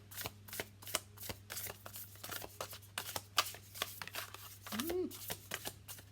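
Tarot cards are shuffled by hand in quick, uneven riffles and slaps close to the microphone, with soft speech murmuring in the background.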